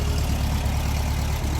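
A classic VW Beetle's rear-mounted air-cooled engine with a single-barrel Solex carburetor runs at a steady idle, a close, loud low throbbing rumble with an even pulse and no talk.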